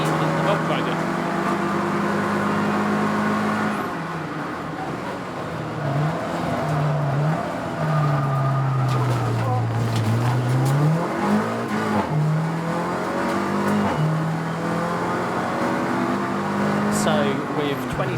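Roadsports race cars lapping Snetterton circuit with a Volkswagen leading, a loud, steady engine drone rising and falling in pitch as the cars accelerate and shift, heard under continuous commentary.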